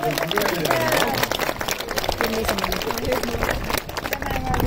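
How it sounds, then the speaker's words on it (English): Crowd at an outdoor falconry display at a castle clapping, mixed with chatter and crowd babble, fairly loud and continuous for several seconds. "Let's give Nikita a big round of applause."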